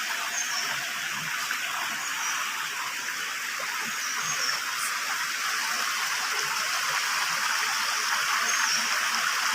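Water pours over riprapped rocks at a waterfall, a loud, continuous rushing hiss that holds steady without pause.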